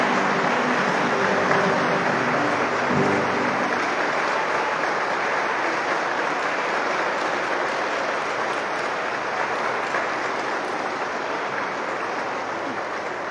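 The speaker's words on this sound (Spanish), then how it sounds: "Le damos un fuerte aplauso a San Francisco de Asís hoy en su día." A church congregation applauds at a solemn Mass for Saint Francis of Assisi, dense sustained clapping filling the space without a break and tapering only slightly toward the end.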